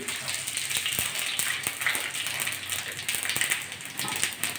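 Panch phoron spices crackle and sizzle in hot white oil in a kadai, a dense close frying hiss with scattered pops throughout.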